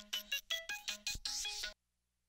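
A phone ringtone plays in a Hindi TV drama scene, a bright electronic melody of short repeated tones that cuts off abruptly, leaving silence.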